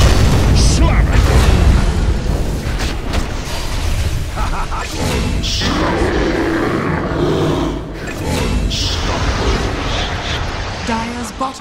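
Earthshaker's ground-slamming ability in a Dota 2 match produces heavy booming impacts and roaring bursts amid busy battle sound effects, loud and dense, while a voice talks over the action.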